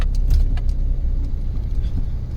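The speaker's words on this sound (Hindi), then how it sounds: "हम जो है लगाते हैं अपनी गाड़ी को पार्किंग में, पार्क करते हैं यहाँ साइड में" A car pulls into a roadside parking spot on a rainy day, with a close low engine rumble, a few short clinks and clicks, and no talking.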